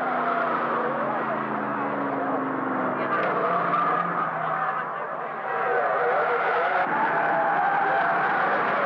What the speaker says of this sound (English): Roxburgh's Datsun locks a brake and has a brush in the dipper.